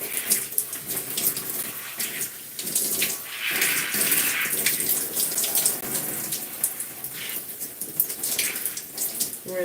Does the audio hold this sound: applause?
no